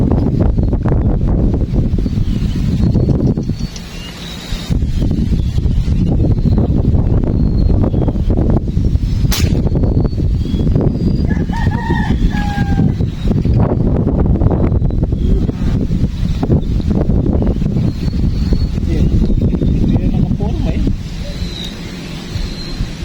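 Strong gusts of wind buffet the microphone in a heavy, roaring rumble at a fishing spot, with people talking intermittently underneath.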